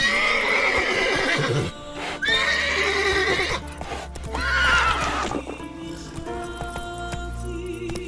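A horse in The Witcher 3 video game neighs loudly with long whinnies over hoofbeats, then settles into a steady, close clip-clop gallop with faint jingling tack.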